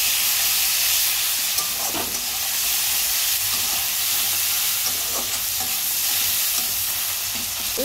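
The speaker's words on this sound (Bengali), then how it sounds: "একটু হলুদ গুঁড়ো দিয়ে ভালো করে আমি মশলাটা কষিয়ে নেব।" Spices with turmeric powder sizzling and frying in a pan while being stirred, a steady loud hiss with occasional scraping strokes, no talking.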